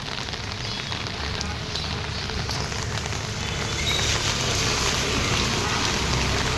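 Heavy rain pours steadily onto an empty evening road, a dense, loud, continuous hiss that swells slightly in the second half, with no talk over it.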